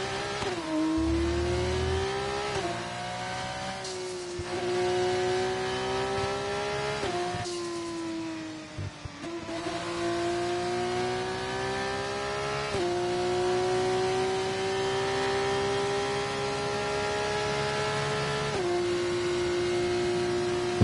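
Racing-game car engine revving steadily with repeated gear shifts, pitch climbing and dropping every few seconds, loud and continuous, plus brief tire-slip squeals at one point.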